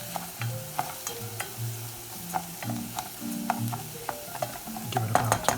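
A spoon stirs vegetable demi-glace and verjus blanc in a hot pan, making a series of sharp scraping clicks over a soft sizzle, close and fairly loud.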